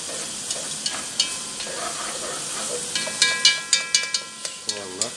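Onions sizzle in a pot close by while a utensil scrapes and clacks against it in quick strokes; a voice speaks briefly near the end.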